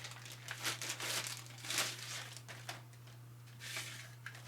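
Plastic packaging crinkled open to unwrap a knife: steady close-up rustling and crackling in repeated bursts, with a constant low electrical hum underneath.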